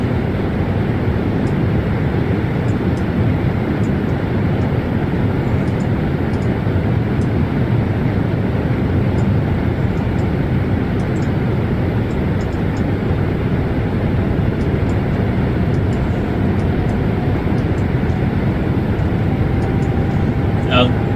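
A Boeing 737 MAX cruises in a flight simulator as a steady, broad cabin drone that holds loud and even throughout, with a person talking over it at times.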